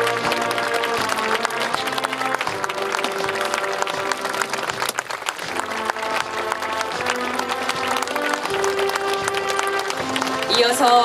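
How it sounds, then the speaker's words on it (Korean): Applause rises from the audience at the Turn Toward Busan international memorial ceremony for UN war veterans as the UN and Korean flags enter, steady clapping under music and announcer talk. "힘찬 박수로 맞아주시기 바랍니다."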